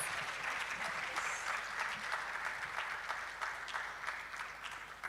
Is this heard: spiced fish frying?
no